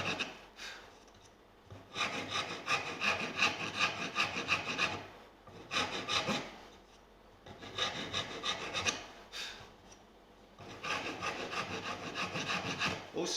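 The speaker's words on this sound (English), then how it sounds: "Let me just fine file that." A hand file fine-files a wooden electric guitar part in a handmade guitar build, giving long rasping strokes in several bursts separated by short pauses, close and fairly quiet.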